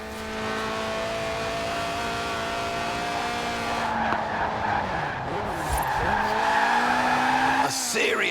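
A Lotus Elise Sport 190 with a 1.8-litre engine slides in Forza Horizon 4, tires screeching in a long skid over a revving engine note that dips and surges.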